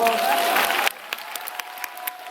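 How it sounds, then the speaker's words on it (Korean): Audience applause at a live film talk event, dense clapping that cuts off abruptly after about a second, followed by scattered lingering claps. "박수 한번 부탁드립니다."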